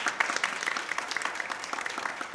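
Audience applauding at an evening library event, a dense, lively burst of hand claps from a crowd filling the room, close and loud throughout.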